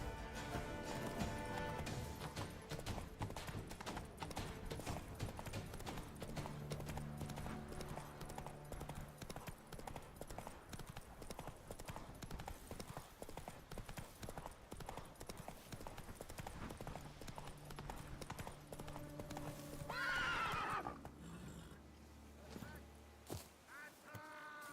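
Hooves of Roach, a horse in a video game, clip-clop steadily at a trot across most of the stretch, with a brief whinny near the end over a dense game soundtrack and effects.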